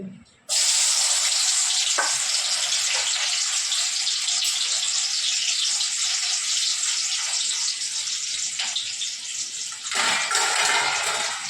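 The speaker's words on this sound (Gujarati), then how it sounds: "તેલ મૂકી દીધું છે કઢાઈમાં, અને કંટોલાને ફ્રાય કરવાના છે" Spiny gourd (kantola) frying in hot oil in a kadai, a loud, continuous bright hiss and sizzle that holds steady for the whole stretch and swells briefly near the end.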